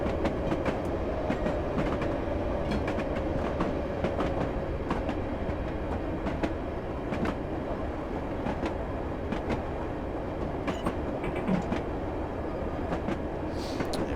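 A London Underground D78 Stock train passes close by, a steady loud rumble with rhythmic clicks and clatter from the wheels running on and on, no one talking.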